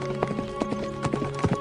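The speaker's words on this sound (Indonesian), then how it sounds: "tiba-tiba Mahesa Rani mendengar derap kaki kuda ke arahnya" Horse hooves clatter in a quick uneven galloping rhythm as a horse approaches, the sharp clip-clop strikes ringing out over a steady tonal hum in a dramatized scene.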